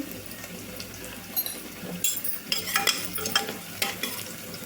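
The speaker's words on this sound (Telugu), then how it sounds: "లైట్గా అయితే ఉల్లిపాయ ముక్కలు వేగాయండి" Onion pieces sizzle in a pan for a Telugu broad bean and tomato curry, with a soft, steady frying hiss broken by louder scraping bursts as they are stirred.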